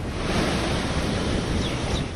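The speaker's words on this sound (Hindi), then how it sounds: "लहरें खतरनाक तरीके से ऊंची उठने लगी हैं।" Rough sea during Cyclone Yaas off the Odisha coast, waves surging in a continuous roaring wash mixed with wind buffeting the microphone, loud and close with no voices.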